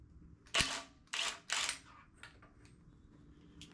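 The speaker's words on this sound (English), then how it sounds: "So I think I can just use the old impact right here, possibly" An impact wrench on a 2.2 Ecotec engine teardown fires three quick, sharp rattling bursts at a 32mm timing chain bolt, close and loud, followed by faint clicks and no talking.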